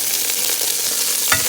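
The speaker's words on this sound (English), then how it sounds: "So now that it's getting a little on the hot side, whoops, I'm going to add my broccoli." Broccoli sizzles in hot olive oil with a close, steady hiss while a wooden spoon stirs it, ending in a short knock of the spoon against the pan.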